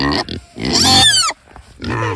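Big, fat farm pigs grunt and oink loudly up close in several short, harsh bursts with brief pauses between them.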